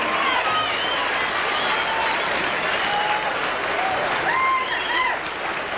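A boxing crowd at an IBF world middleweight title fight applauds and cheers steadily after the bout, with dense clapping and a commentator's voice over it.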